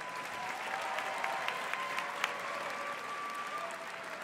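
Pageant audience applauding after a swimwear showing, a soft, distant wash of clapping with a few sharper individual claps and a faint tone running under it.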